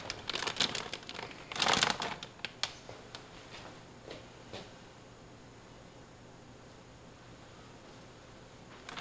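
Plastic bag opened and crinkled while preparing smoked tuna dip, a burst of close crackling rustles early on, then scattered softer crinkles fading into quiet room noise.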